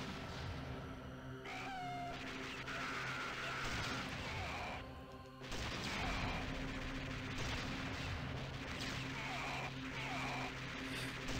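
Arcade action game Metal Slug plays a dense run of vehicle explosions with blasts, gunfire and laser-like zaps, loud and continuous with a brief dip midway.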